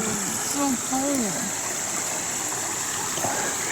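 Cold stream water flows in a steady, close rushing wash that runs without pause. A few brief high voice-like chirps sound over it early on.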